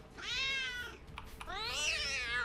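A cat meows twice in long, drawn-out, insistent cries, close and fairly loud over a steady background hum, with no talking.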